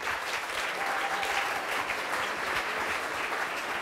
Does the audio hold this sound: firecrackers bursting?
no